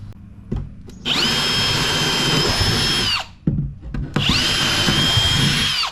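Two sustained bursts of a power drill boring holes into a wooden planter box, loud and close, with small knocks and handling noise between them.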